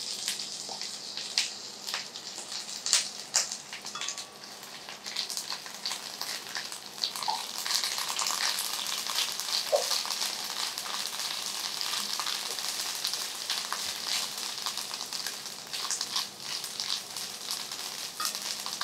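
Ginger garlic paste sautéing in a pan, a steady bright sizzle and crackle of frying that runs continuously for the whole stretch with occasional small stirring clinks.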